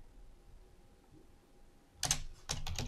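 Short burst of computer keyboard typing near the end, a few quick clustered key clicks after a quiet stretch, close and fairly soft, no speech.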